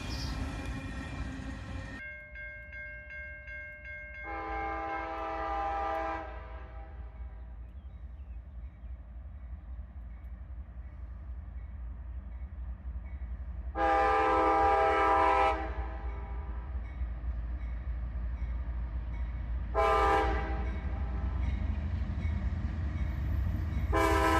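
Tail end of a freight train rumbles past on a line where KCS, CP and CSX locomotives run, with several loud sustained train horn blasts sounding over the steady wheel noise.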